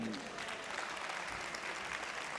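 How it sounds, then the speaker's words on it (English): Loud, continuous applause from spectators at a women's singles final, greeting the silver medalist at the award ceremony, dense and sustained with a faint voice underneath. "a big round of applause for our silver medalist, Sophia Seving"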